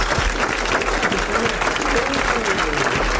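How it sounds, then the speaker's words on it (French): A studio audience on a 1981 French television programme breaks into brisk, continuous applause, a thick wash of clapping with a voice faintly audible beneath it. "vous applaudissez Madame Sévère de Metz"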